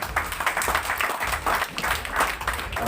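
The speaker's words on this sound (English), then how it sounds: "So I think we need to give a clap to most of the ladies" Guests at an evening gathering at a hotel clap in scattered, uneven bursts, a loose and fairly quiet round of applause rising and dipping every half second or so.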